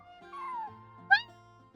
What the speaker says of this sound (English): That was a friendly feline.